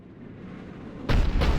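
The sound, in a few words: cannon firing in video game Mass Effect 3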